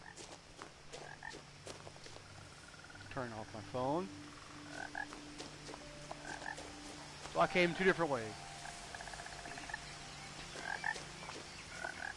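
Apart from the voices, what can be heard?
frog croaking in video game What Remained of Edith Finch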